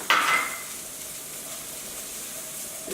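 Chopped ginger and garlic drop into hot oil with a sharp hissing burst, then settle into a steady, even sizzle that runs on quietly and close by.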